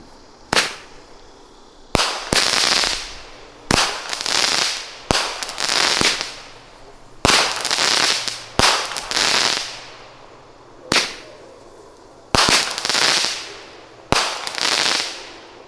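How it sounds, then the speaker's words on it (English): Doctors fireworks cake by Supreme Fireworks at a Fourth of July show, firing a loud sequence of about a dozen sharp launch pops, each followed by a crackling burst that fades, in an irregular rhythm. "Doctors by Supreme Fireworks."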